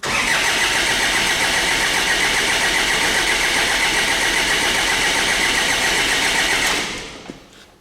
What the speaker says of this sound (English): I'll crank the engine.